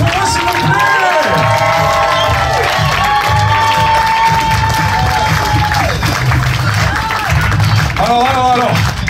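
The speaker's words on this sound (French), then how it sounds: "Faites un tonnerre d'applaudissements pour eux" A comedy club audience claps and cheers loudly for a line-up of comedians, with dense applause, whoops and shouts running on, and voices calling out over the crowd.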